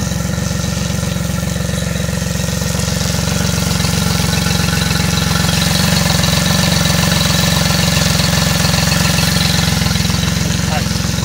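A Yamaha 40 HP outboard motor runs steadily at idle, a loud, dense mechanical drone that continues unbroken throughout, with voices faintly underneath.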